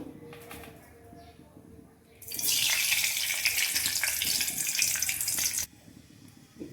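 Fenugreek seeds drop into hot oil in a pan, setting off a sudden loud, hissing sizzle that holds for about three seconds and then cuts back to a quiet background.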